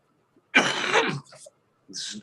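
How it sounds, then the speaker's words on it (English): A single harsh, raspy smoker's cough up close from a heavy weed smoker, followed by a short throat-clearing sound and a brief breathy exhale. "That random cough that'll never go away because I smoke a lot of weed"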